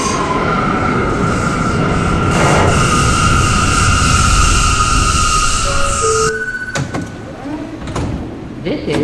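An R179 F express subway train on the F line moves through a station with a loud steady rumble and hum, a high tone running above it, then clanks and door sounds as it slows near the platform.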